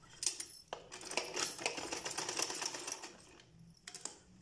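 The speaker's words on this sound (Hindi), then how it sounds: "अब ये दूसरा भी हम इसी तरह उसके साथ सिलाई कर लेते हैं।" A sewing machine stitches a homemade cloth face mask sewn from a cloth bag, a steady close run of rapid needle clatter with short pauses near the start and end.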